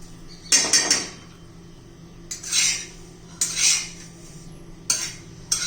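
Black cumin seeds being dry-roasted in a pan on a low flame, a spoon stirring and scraping the metal in four or five separate bursts of clinking, close by, with quiet gaps between.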